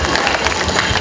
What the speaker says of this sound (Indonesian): Beri tepukan kepada mereka.